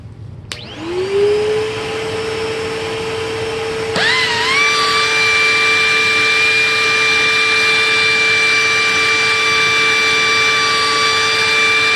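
A ProTeam SCM-1282 vacuum running during an airflow test, starting up with a rising whine, then a loud steady motor drone with strong tonal pitch that climbs further around the fourth second and holds to the end.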